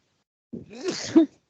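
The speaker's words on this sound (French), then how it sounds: "Je viens d'avoir un petit éternuement" A single close sneeze from a woman in a quiet indoor session: a short sharp intake followed by a breathy, voiced burst that ends abruptly, then silence.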